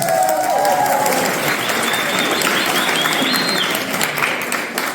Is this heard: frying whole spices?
no